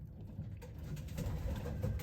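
Pigeon hen with her two chicks in a loft nest box, giving soft low cooing and faint rustling, quiet and close, with no talking.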